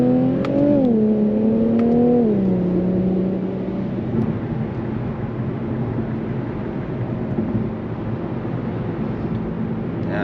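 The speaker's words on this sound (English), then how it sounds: "I don't like redlining my car." An Infiniti Q50 Red Sport 400 with a twin-turbo engine revs hard in the opening seconds, its rising engine note climbing and then dropping away, followed by a steady road drone that continues to the end.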